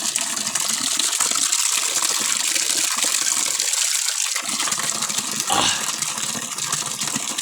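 Water from a free supply pipe in a Philippine banana plantation gushes and splashes steadily, a continuous bright rushing hiss close by with brief dips in the flow.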